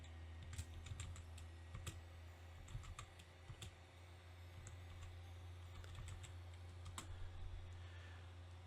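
Keys clatter on a computer keyboard, pressing T to chat in MAMEHub, in quick irregular bursts of clicks over a low steady hum, with no one talking.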